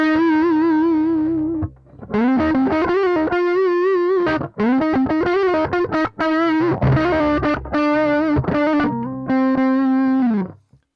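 Electric guitar played through an overdrive pedal, loud sustained chords and single notes with a fuzzy, distorted breakup and ringing harmonics, played alone without talk.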